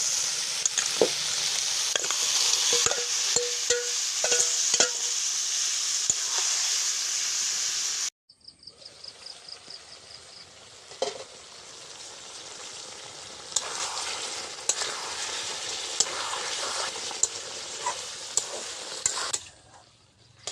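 Marinated mutton (goat meat) hitting a hot pan and frying, a loud steady sizzle with scraping stirs, briefly dropping away before a renewed strong hiss as the meat cooks.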